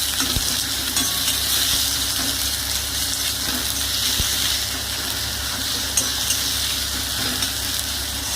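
Onions and chili stir-fried in a pan for an egg and poppy-seed dish, with a steady close sizzle and hiss and occasional soft clinks of stirring, no voices.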